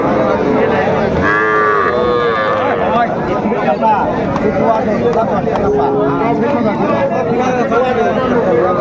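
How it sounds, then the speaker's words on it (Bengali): A bull calf moos at the Ambari cattle market in Dinajpur, with one clear, drawn-out call rising above constant crowd chatter and the bustle of livestock trading around it. "ষাঁড় বাচ্চা, বেশ সুন্দর বাচ্চা।"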